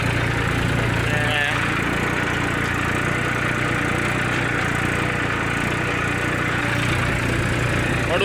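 A tractor engine runs at a steady idle close by, its low, even rumble continuing without a break for the whole stretch.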